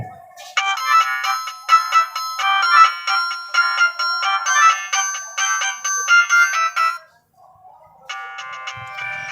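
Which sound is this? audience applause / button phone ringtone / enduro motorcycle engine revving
button phone ringtone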